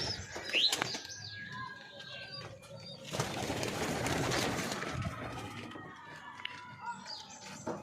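A pair of pigeons shuffles and flaps in a loft, with a burst of wingbeats in the middle, soft coos and small chirps scattered around, all fairly quiet and close.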